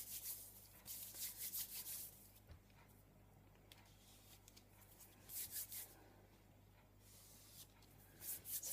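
Glue being rubbed off a paper explosion box, heard as soft, quiet bursts of dry rubbing and brushing strokes with short pauses between them.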